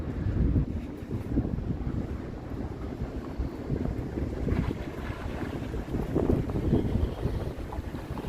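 Gusty wind buffets the microphone during a walk through downtown Toronto, a low rumbling roar that surges and dips in uneven bursts, with no speech.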